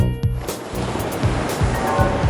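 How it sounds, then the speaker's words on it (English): Sea waves breaking and washing in a loud, continuous roar of surf with rhythmic surges, close and without voices. "the waves"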